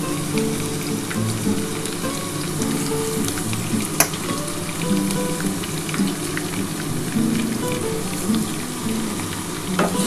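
Chopped ginger and garlic sizzle steadily in hot oil for a chilli chicken dish, a dense crackling hiss with occasional sharper pops and faint stirring, close and continuous with no talk.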